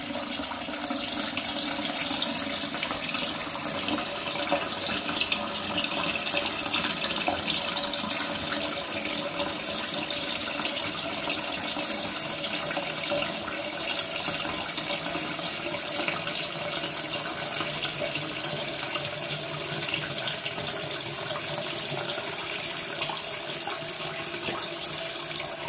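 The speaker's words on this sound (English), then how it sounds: "All depends on how much pressure we've got, how fast the water will come in." An Ideal Standard toilet cistern refills with water: a steady, loud, hissing rush of inflow runs unbroken and close for the whole stretch, with no voices over it.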